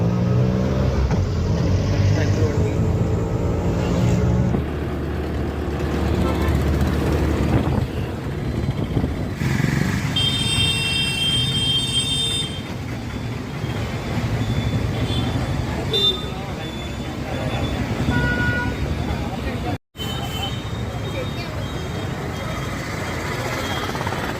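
An auto rickshaw rides through traffic, its engine droning steadily close up with road noise and passing vehicles, a horn-like tone cutting in midway, while a person talks over it.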